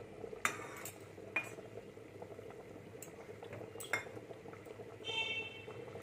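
Oil goes into a hot kadai in a village kitchen before brinjal is fried, giving a soft, steady bubbling hiss with a few sharp metal clinks.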